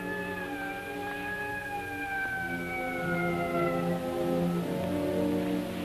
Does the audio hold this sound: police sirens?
yes